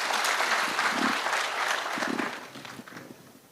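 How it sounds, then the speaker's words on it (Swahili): A crowd at a Kakamega County security forum applauds its leaders: dense, loud clapping that holds steady, then thins and fades toward the end. "Tupigie makofi viongozi wetu."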